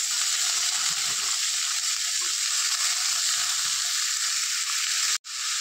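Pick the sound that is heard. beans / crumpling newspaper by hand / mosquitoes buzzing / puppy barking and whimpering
beans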